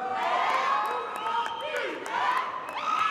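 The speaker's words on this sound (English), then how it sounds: "She brought her own cheering section." A cheering section at a graduation ceremony shouts and whoops, several voices rising and falling in excited yells over a low crowd murmur, moderately distant.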